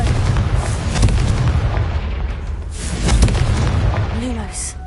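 Confringo blasting spell in Hogwarts Legacy, a series of deep booming explosions with crackling debris, loud and close, with a voice briefly heard over the blasts.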